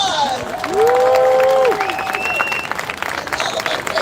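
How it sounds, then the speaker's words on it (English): Crowd applause and cheering for California Governor Gavin Newsom at his inauguration during a March for Democracy event, with steady clapping under loud whooping and voices, filling the clip and easing off toward the end. "Let's give him a big old applause."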